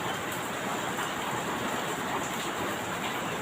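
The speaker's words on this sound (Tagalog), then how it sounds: "Masyadong malakas yung ulan sa labas." Heavy rain pouring steadily outside, a dense continuous hiss with no pauses and no voices.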